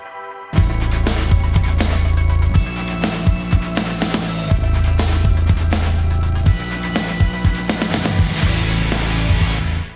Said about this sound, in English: you just put your finger lightly on the string and then pluck it, and it creates a really cool sound like this.